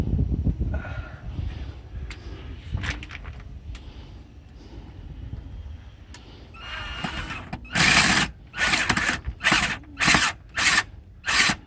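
A power drill drives small tapping screws to mount a flood light bracket, several short loud whirring bursts in a stop-start rhythm following quieter handling noises and faint movement.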